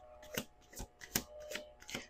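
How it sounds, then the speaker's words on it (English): A deck of tarot cards is shuffled in about five quick, crisp riffling bursts, close and clear, spaced roughly evenly with brief pauses between them. "Let's do 2 more shuffles."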